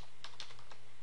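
A few quick keystrokes on a computer keyboard, a handful of sharp clicks over about a second with light background hiss and no talking.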